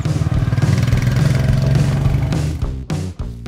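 A Royal Enfield Meteor 350 motorcycle engine runs with a steady, throbbing mid-pitched note, close and loud. It eases off and dips briefly near the end, with no voices.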